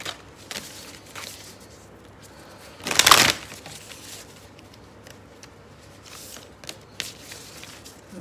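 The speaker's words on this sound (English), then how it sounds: "Let me just shuffle the cards." A single crisp shuffle of a deck of large tarot-style cards in a quiet room, with faint soft handling sounds before and after.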